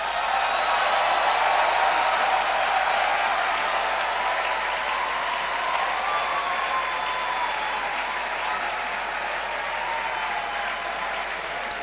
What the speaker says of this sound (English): With a round of applause, shall we appreciate our parents and guardians?